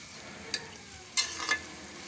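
Green peas and spices fry briefly in a pan for a pea chutney, a soft low sizzle broken by a few quick scrapes of a spoon stirring the mix.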